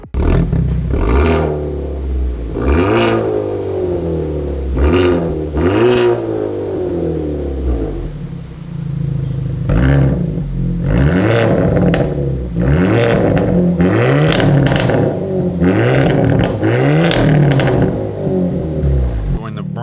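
A brand-new 2024 Hyundai Elantra N Line fitted with a Borla exhaust revs repeatedly, loud and close, in a series of rising and falling blips that climb faster and more often toward the end.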